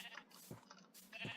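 Two short sheep bleats from Minecraft survival mode, each a nasal wavering call, spaced about a second apart, quiet and alone.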